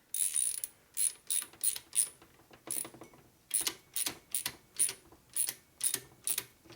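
A screw is threaded into a hole in an S&S 113ci Evolution Harley engine, giving a series of sharp, evenly spaced ratcheting clicks close up, about a dozen strokes in a steady rhythm with no talking.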